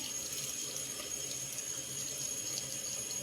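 A tap runs steadily into a sink as cream is rinsed off skin, a soft, even rush of water close by that continues without a break.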